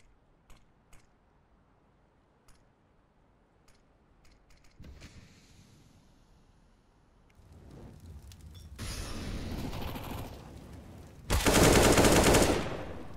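Counter-Strike gunfire at a professional esports match: sparse faint clicks early, then a rising burst of fire growing louder and ending in a dense, loud volley near the end, with no talk.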